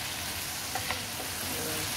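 Vegetables such as Baguio beans fry in a pan for pancit bihon guisado, giving a continuous loud hiss and sizzle with a couple of brief stirring clinks and no voices.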